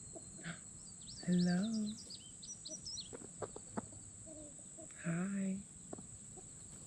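Chickens in a garden cluck and squawk in short bursts, with two louder calls standing out among scattered softer clucks, while a person briefly says hello nearby.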